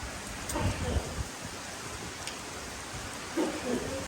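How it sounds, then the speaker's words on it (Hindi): Heavy rain pours down with strong wind in a rural setting, soaking drying paddy grain; a steady broadband hiss holds throughout, with a few louder bursts and faint low rumbles. "बारिश जी तेज़ आ चुकी है और हमारी मूंजी गीली हो चुकी है।"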